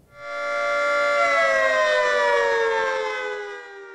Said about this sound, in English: Outdoor warning sirens will sound across the state on Thursday as part of a statewide tornado drill